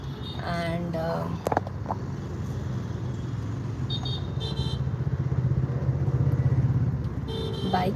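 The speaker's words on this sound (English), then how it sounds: "bikes are coming from all the sides" Motorcycles and cars pass in busy road traffic at a long signal, heard from inside a vehicle on a drive home: steady engine rumble with brief horn toots, and a voice speaking briefly near the start.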